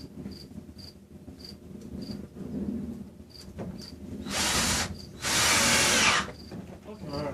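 A power tool whirs in two short bursts near the end while fastening a brace on a homebuilt greenhouse door, with crickets chirping steadily throughout and faint background sound between.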